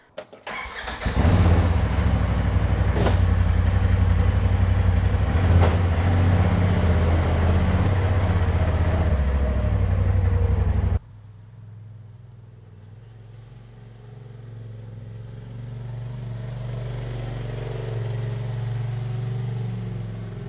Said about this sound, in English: I'll get in the Razor and I'll drive over there